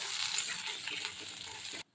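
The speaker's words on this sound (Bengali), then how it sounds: "নারকেলটা দেখুন ভাজা হয়ে তেল ছাড়ছে, ফেনা ফেনা হয়ে গেছে।" Grated coconut frying in ghee and oil with cumin seeds in a pan, a dense, even sizzle and crackle that runs close and steady, then cuts off abruptly.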